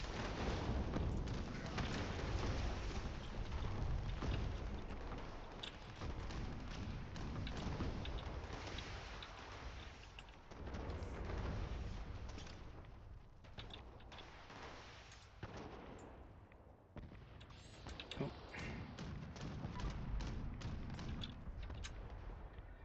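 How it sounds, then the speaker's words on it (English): Gunfire and explosions in the video game Fallout 76, dense rapid bursts of thuds and blasts over about twenty seconds, loud and sustained with brief lulls. "Sometimes it's worth just firing into this building."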